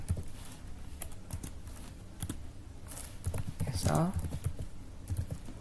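Keys clack on a computer keyboard as a Linux command is entered in a Red Hat system running in VirtualBox, with sparse, light taps under a continuous speaking voice.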